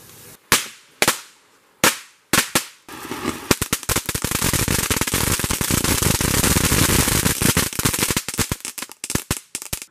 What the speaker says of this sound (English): let's throw some firecrackers inside it